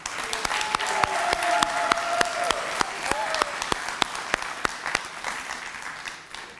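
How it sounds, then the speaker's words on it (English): Sustained applause fills a medical assistant, phlebotomy and CNA graduation ceremony, dense clapping with a few louder sharp claps and a sustained whoop or cheer threading through, steady throughout. "Let's give them a round of applause."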